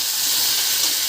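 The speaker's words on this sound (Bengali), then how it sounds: "বড়ি ভাজা তেলে দিয়ে দিচ্ছি একটা তেজপাতা, সামান্য গোটা জিরে, ছোটো ছোটো করে কেটে রাখা আলুগুলোকে একটু ভেজে নেব" Bay leaf, whole cumin and small-cut potato pieces fry in hot oil, giving a steady, close, loud sizzle and hiss with no voices over it.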